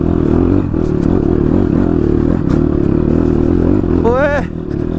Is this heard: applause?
no